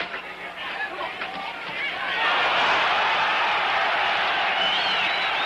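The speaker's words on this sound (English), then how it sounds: "The crowd will yell every time Floyd even seems to land" A boxing crowd at the Floyd Patterson vs. Jimmy Ellis heavyweight title fight swells from murmuring chatter into a loud, sustained roar of yelling that holds steady to the end.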